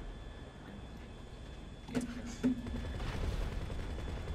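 Gunfire in the video game GTA V: a couple of sharp shots near the middle over a steady engine-like drone, with a busier burst of noise building toward the end.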